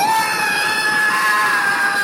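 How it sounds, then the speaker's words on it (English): A horrible high-pitched scream sound effect in a Real GhostBusters audiobook: a loud, sustained shrill wail holding a steady piercing tone for about two seconds with nothing else heard. "followed by a horrible, high-pitched scream"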